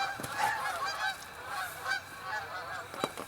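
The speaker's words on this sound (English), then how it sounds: "Oh, geese are migrating." Migrating geese honk repeatedly at a distance, with several calls overlapping in an irregular chorus against quiet outdoor background.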